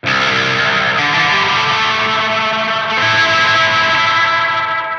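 An electric guitar plays loud, sustained, heavily distorted chords through a Holy Island Audio Tides reverb pedal set with the reverb first in the chain, giving a continuous wash of ringing sound.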